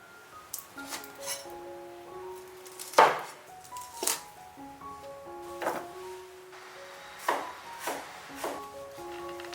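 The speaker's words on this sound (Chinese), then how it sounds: "我们来把它切成小块" Knife chopping beef tendon into small pieces on a cutting board, several sharp chops at an irregular pace, close and fairly loud, with faint clinking between strikes.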